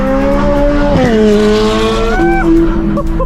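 A loud car engine roars at high revs, its pitch climbing then dropping sharply through gear changes, with a brief tire squeal, continuous and close.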